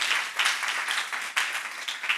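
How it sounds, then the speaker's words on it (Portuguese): A church congregation claps for its youth, a brief burst of dense, rhythmic applause from many hands, close and steady throughout. "eu quero pedir para a igreja que aplauda a nossa juventude"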